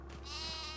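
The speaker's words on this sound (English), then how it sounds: "Cute little bleats." A single soft sheep bleat rises inside a barn, faint and fairly close over a steady low background hum, with no voices.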